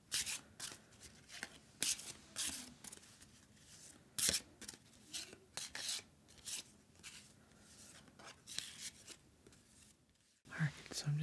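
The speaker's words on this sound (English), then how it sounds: "I'm just going to give that a quick shuffle too." Character cards from the Tiny Epic Defenders 2nd edition board game are shuffled in repeated quick riffles and soft slides, close and quiet, with brief pauses between bursts and soft-spoken talk nearby.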